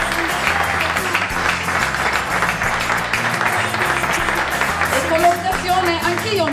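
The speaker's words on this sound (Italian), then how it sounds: "Un grande applauso." Applause from a crowd fills the space with steady, dense clapping while music plays loudly underneath.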